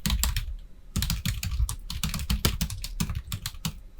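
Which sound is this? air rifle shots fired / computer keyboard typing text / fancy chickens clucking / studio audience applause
computer keyboard typing text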